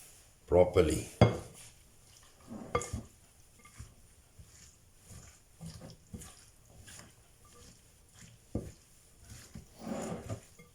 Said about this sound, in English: What I do next is I mix up this filling properly.